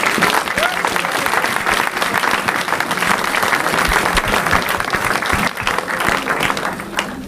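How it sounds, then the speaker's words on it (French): A church congregation claps and cheers for Jesus Christ in a loud, dense, steady wave of applause that fills the whole stretch, with crowd voices mixed into the roar. "On peut acclamer Jésus-Christ de Nazareth."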